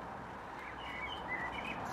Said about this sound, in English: There's a blackbird on the roof next door singing its head off.